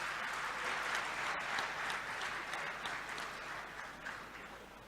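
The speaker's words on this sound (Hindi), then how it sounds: "जोरदार तालियों से उनका स्वागत करें" A crowd at a Bhind industrial event welcoming Madhya Pradesh Chief Minister Mohan Yadav claps in a steady, dense round of applause that is fairly distant and gradually tapers off over several seconds.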